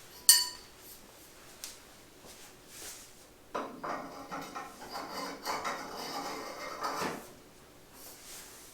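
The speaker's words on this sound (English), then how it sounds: "we need to put the stainless supports in. So we'll go ahead and just slide those in for now" Stainless steel supports slide into the frame of a custom flight simulator cockpit, giving a sharp clack near the start and then a longer scraping, rattling metal slide from about four to seven seconds, close and moderately loud.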